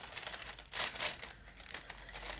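A pink striped paper bag crinkles and rustles up close as a small handmade luminous pendant necklace is slipped inside, a few soft crackling bursts over a quiet background.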